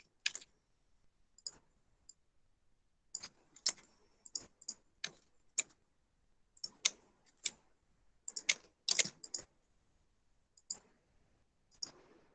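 Code is typed on a computer keyboard in short bursts of crisp, close key clicks separated by pauses, quiet overall with no voices.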